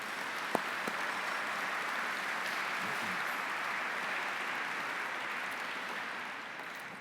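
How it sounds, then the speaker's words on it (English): Sustained applause from a dinner audience at an awards banquet, a steady dense wash of clapping filling the room for several seconds before tapering slightly at the end. "all our sponsors a round of applause"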